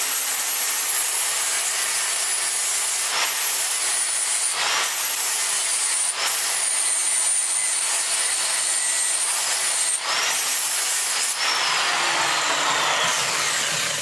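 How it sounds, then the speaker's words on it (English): A grinder works over metal to clean it, a constant loud whining grind with brief dips and changes in pitch where the tool shifts against the workpiece. "And then you can take a grinder."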